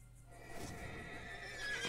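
A horse in a video game lets out one drawn-out neigh lasting nearly two seconds, clear and close, with a faint hum running beneath it.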